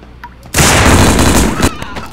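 A shotgun blast in a video game, one loud booming report with a broad roar that holds for about a second before cutting off.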